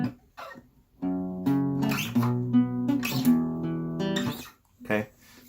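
An acoustic guitar plays a short strummed chord passage from a song, with ringing chords in bursts and brief pauses, close and moderately loud, with a short vocal sound near the end.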